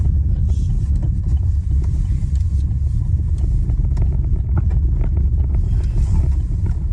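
A car drives over a bumpy road through Douglas, Lanarkshire, in Scotland, giving a steady, loud, close engine and road rumble with some wind buffeting throughout.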